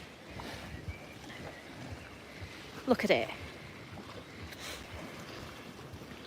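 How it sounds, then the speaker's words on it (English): Sea waves lapping near Dubrovnik, Croatia, a soft continuous wash mixed with wind noise and a faint boat hum, with a person talking briefly in the middle. "Can you hear the waves?"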